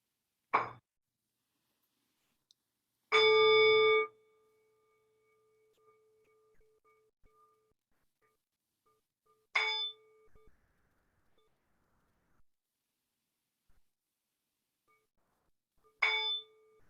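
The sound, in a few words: meditation bell ringing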